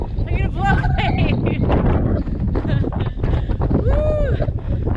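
Strong wind gusts roar and buffet the microphone on the Pacific Crest Trail, loud and continuous, while someone talks and exclaims over the blustery noise.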